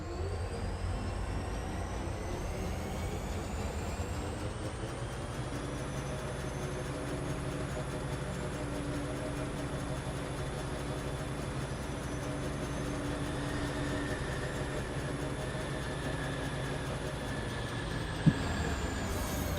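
A train rolls along a rail line in the factory-building game Foundry, giving a steady, continuous mechanical rumble with a drawn-out tonal hum and one small clank near the end.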